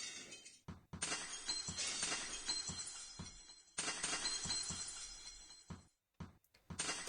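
Smashing sound effect from the chess game Fritz & Chesster, like ceramic or glass shattering: two long crashing bursts with sharp clinks of falling shards, separated by brief silences, loud and alone.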